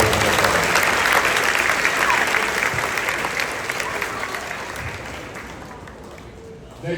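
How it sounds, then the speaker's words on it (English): A crowd applauds graduating students at a middle school eighth grade graduation, a broad, full wash of clapping that starts strong and gradually fades over several seconds. "Let's give those students a round of applause"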